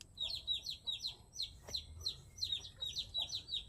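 Chicks peep in quick, high, repeated chirps, faint and fairly steady, with soft low rumbling beneath.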